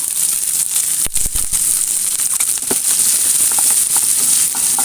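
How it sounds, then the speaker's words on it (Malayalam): Halved small shallots sizzle and crackle in hot oil in a pan, a dense continuous frying hiss broken by a few sharp scraping and stirring clicks. "ചെറിയ ഉള്ളി 2ആയിട്ട് കീറിയിട്ട് അതും ഇട്ട് കൊടുക്കാം."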